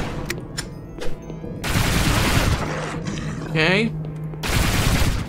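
Shotgun blasts in the shooter Project Warlock 2, several heavy bursts between chaotic monster noises and effects, with a brief spoken word from a player.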